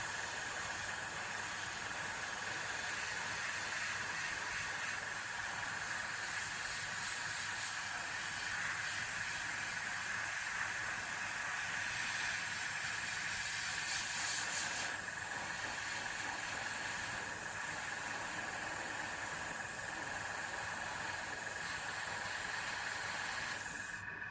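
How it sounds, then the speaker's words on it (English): Airbrush spraying paint onto a Star Wars Legion dewback miniature, giving a steady airy hiss that runs without a break for the whole stretch, close and moderately loud with no talking. "Just keep the airbrush moving as well, so it doesn't pool."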